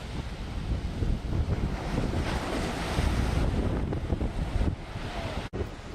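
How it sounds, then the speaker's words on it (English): Small ocean waves, barely a foot tall, break on Daytona Beach, a steady close wash of surf mixed with strong wind buffeting the microphone, dipping briefly near the end. "These waves are barely a foot tall."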